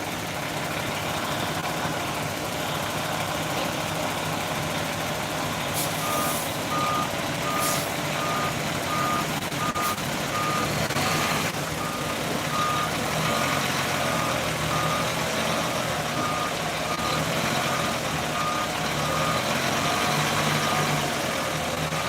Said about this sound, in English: So they're getting ready to move the ladder truck.